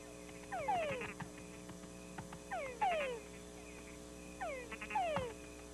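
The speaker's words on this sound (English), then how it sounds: "The recorded croaks of certain fat frogs stimulated the bats into an immediate attack on the loudspeakers." Frogs croak in repeated paired bursts of quick, chirping calls, three groups at steady intervals, clear against a low humming background.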